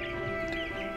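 Young Bresse chicks cluck and cheep in a brief, close burst of soft overlapping calls.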